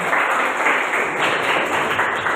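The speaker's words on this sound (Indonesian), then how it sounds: "Tepuk tangan untuk Aisyah ya." A classroom group claps for a student named Aisyah, a short, steady patter of many hands clapping at once, fairly loud and without pauses.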